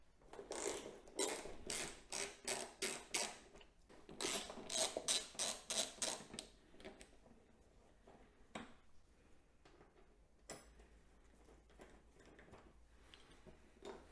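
A ratchet loosens the windscreen bolts on a Harley Road Glide Limited, giving close, rhythmic clicking bursts in two long runs, followed by quieter scattered metallic clicks and a few single taps.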